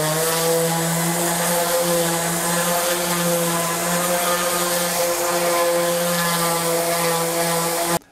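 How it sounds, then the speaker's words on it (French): An orbital sander runs on a wooden chair in a steady, loud motor whine with a strong buzzing hum, close and continuous, stopping sharply at the end. "on va procéder à un ponçage général avec un abrasif fin et à la ponceuse orbitale"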